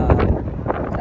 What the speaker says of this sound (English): It's very windy out here, so sorry for the noises.